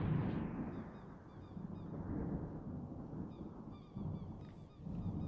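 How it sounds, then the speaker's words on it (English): Honking bird calls, like geese or other waterfowl, sound in a sea survival game, with repeated bursts of calls coming from a distance over a steady low rumble of wind and water. "See where the birds are coming from."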